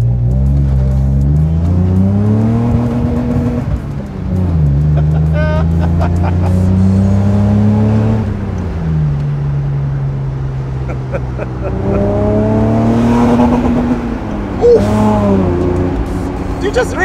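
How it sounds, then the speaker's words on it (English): A BMW E30 325i converted into a pick-up, its engine revving hard to redline in repeated climbing and falling sweeps up close, loud and sustained, with people talking over it. "You just redlined, dude."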